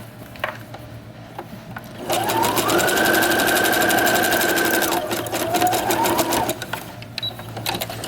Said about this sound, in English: Now I'm going to do a simple zigzag stitch right across this edge just to lock everything in.